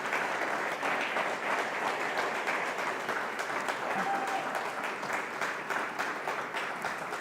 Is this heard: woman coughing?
no